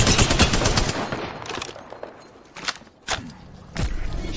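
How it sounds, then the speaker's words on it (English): Rapid automatic gunfire from an Apex Legends match on Xbox One, dense bursts up front, then a quieter stretch broken by sharp separate shots and a final loud volley. "The enemies are shooting at me."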